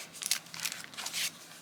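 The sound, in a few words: crinkled paper being handled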